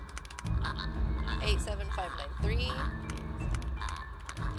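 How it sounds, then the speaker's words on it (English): Slow, deliberate typing on a computer keyboard during a game, sparse key clicks sitting beneath continuous loud speech and game audio. "You hear me typing so slowly?"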